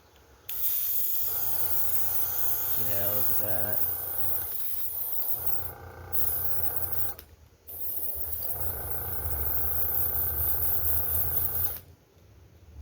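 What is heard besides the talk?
paint spray hissing while painting a fishing lure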